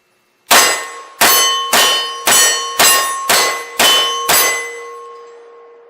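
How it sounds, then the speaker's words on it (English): AR rifle firing Allegiance HogStrike rounds at a steel target 15 yards away: eight sharp metallic clangs at a steady rhythm about every half second, each ringing on with a sustained bell-like tone, with no talking. "hit a piece of steel there, 15 yards, and just see what happens"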